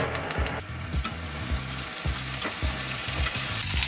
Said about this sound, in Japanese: まあとりあえずベーコン焼いていきたいなと思います